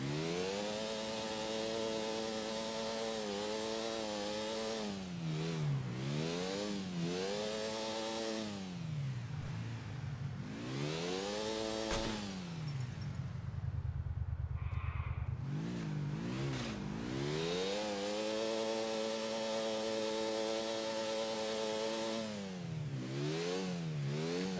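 Dirt bike engine in GTA IV revving repeatedly, rising and falling in pitch through several long throttle sweeps with a brief lull midway, loud and close throughout.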